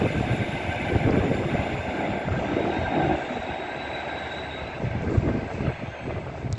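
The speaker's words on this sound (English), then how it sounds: "About to pass by now, we'll have an 807 Avera going from London Euston to Liverpool Lime Street." A Class 807 Avanti passenger train running from London Euston to Liverpool Lime Street roars past at Rugby, a loud sustained broadband rush with faint wheel squeal, close by and heard alone.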